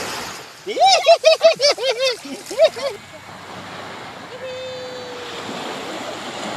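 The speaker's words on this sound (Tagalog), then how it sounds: "malakas ang alon ma" Strong ocean waves wash onto a beach in a steady broad roar, with a child's loud rising cries and nearby voices over the surf at first, then the rush of water alone.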